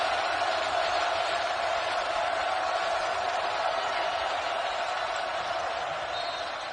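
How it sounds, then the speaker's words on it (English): Arena crowd roars steadily throughout a Tennessee versus LSU college basketball game, a dense wall of cheering that holds loud and unbroken. "And now the crowd back in."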